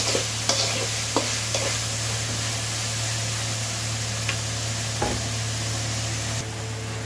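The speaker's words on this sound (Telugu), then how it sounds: "చూడండి, ఆల్మోస్ట్ వేగుతూ ఉన్నాయి కాంచరకాయలు." Kasarakaya gourds frying in a pan, giving a steady, loud, close sizzle with a constant hiss and a low hum beneath, broken by a few faint clicks and stirring scrapes.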